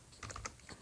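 A computer keyboard clicks out a web address in a short, quiet burst of a few quick keystrokes, with no voices.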